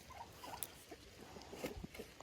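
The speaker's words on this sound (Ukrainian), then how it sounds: "О, якраз дощик, як добре." Light rain falling outdoors in a garden where young saplings are being transplanted: faint, scattered patter of drops against a quiet background.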